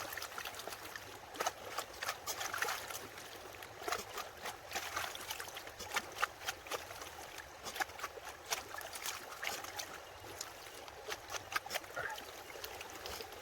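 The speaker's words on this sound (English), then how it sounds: "I'm just going to pan it down to a reasonable amount and then add more to the pan" Gold pan being worked in water, washing material down toward heavy black sands: steady close sloshing and trickling with gritty swirling and frequent small splashes, continuous with no talking.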